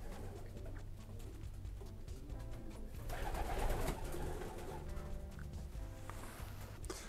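A pigeon coos softly while it is handled for a tracheal and palate swab during health sampling, its low murmuring calls faint and steady beneath quiet background noise.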